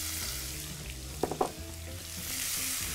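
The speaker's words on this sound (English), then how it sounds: "Let's drop the beef into the wok." Beef dropped into hot oil in a wok for beef chow fun, a steady frying hiss throughout with a short burst of sizzling crackles as the meat hits the pan, close and fairly loud, no talking.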